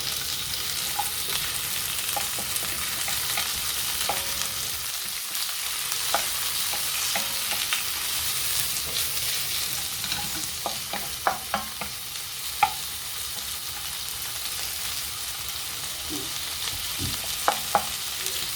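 Shrimp sizzle and hiss steadily in a hot pan with broccoli, broken by occasional clinks and scrapes of stirring, continuous for a long stretch with no speech.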